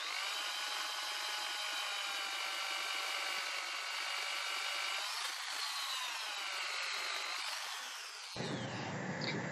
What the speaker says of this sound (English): the hole saw wasn't just long enough, so I had to drill from the other side or break a bit out